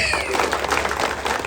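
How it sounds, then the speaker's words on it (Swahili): Audience applause for clean boda boda motorcycle-taxi riders at a church gathering, a steady wash of many hands clapping for over a second, moderately loud and close. "Makofi kwa bodaboda wasafi."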